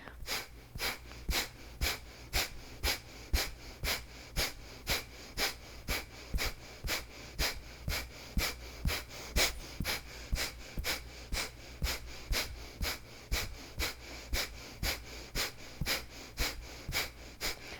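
Rhythmic, forceful breathing during a breathing exercise, rapid regular pumping breaths repeating steadily for the whole stretch, close and fairly loud.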